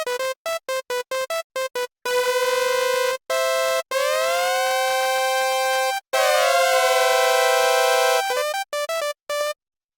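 Bright synthesizer notes: quick staccato hits, then sustained tones that slide smoothly between pitches, ending in a few more short notes.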